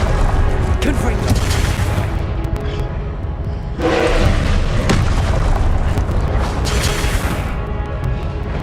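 Booming spell blasts from Hogwarts Legacy gameplay, several heavy explosive bursts over dense game combat noise, loud and close, with swells around the middle and later.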